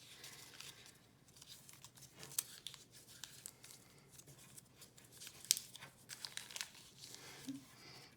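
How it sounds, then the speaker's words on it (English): Paper is torn and crumpled by hand for a children's animal-face craft, close, quiet crinkling and rustling with small sharp rips scattered unevenly throughout. "You can fold paper, you can tear paper"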